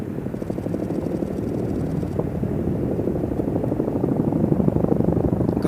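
Indian Air Force Chinook helicopters carry two Indian Army M777 guns as underslung loads, making a loud, continuous rotor drone with a low pulsing throb that holds steady throughout.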